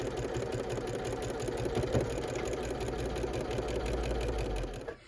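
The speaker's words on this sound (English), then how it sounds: "So with my needle down, I'm just going to begin carefully stitching all the way across, removing the pins and clips as I go." A sewing machine stitches steadily across quilt fabric for a quilt-as-you-go sampler quilt, the needle running in a fast, continuous whir that stops just before the end.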